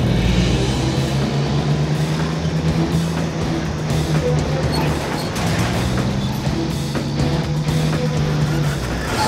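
A truck engine revs hard and steadily while the vehicle is stuck in a bog hole, a loud, sustained low roar with wavering pitch and no speech over it.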